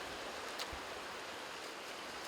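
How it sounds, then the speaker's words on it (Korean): Wind and ocean waves wash in on a seaside shore, a soft, distant broadband roar of surf with one brief low thump partway through. "봐, 아, 바람 불지. 파도 치지."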